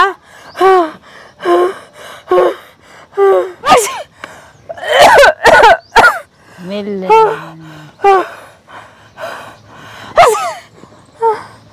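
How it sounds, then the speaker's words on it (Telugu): A person acts out a noisy fit of gasping, wheezy breaths, coughs and sneezes, a rapid run of loud, close bursts with short pauses between them, broken once by a drawn-out, groaning vocal sound. "నాకు ఆయాసం, దగ్గు, తుమ్ములు ఉన్నాయి కదా"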